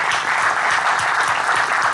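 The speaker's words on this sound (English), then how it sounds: "I would like all of us to applaud all of us by clapping" Audience at a community event in the SF Bay Area claps loudly and continuously, a dense, even roar of many hands close by.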